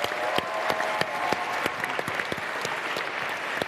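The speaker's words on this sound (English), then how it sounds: "Round of applause." Round of applause from an audience at a tech talk event, steady dense clapping with sharper individual claps standing out, sustained evenly throughout without voices.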